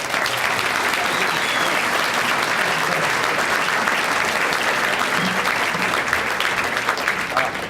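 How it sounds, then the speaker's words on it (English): Sustained, dense applause from a large audience at a tribute event honoring the Illinois Tollway's executive director, loud and steady throughout with no pauses. "how about a big round of applause?"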